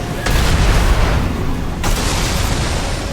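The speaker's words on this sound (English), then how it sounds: "The missiles do the work for me though." Missile explosions in the Armored Core VI video game land as two heavy booms, one early and one midway, each followed by a rumbling roar that fills the short stretch.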